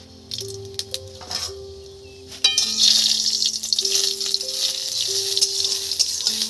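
Dal with homegrown papaya being tempered in a home kitchen pan, a steady sizzle that swells louder partway through, with scattered clinks and stirring scrapes over a low hum.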